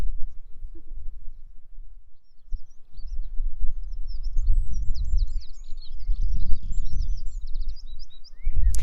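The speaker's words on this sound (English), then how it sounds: "So there is a little wren singing over there" A small wren sings in the early-morning dawn chorus outdoors, its high rapid trills fairly faint and distant over a low rumbling background with occasional soft knocks.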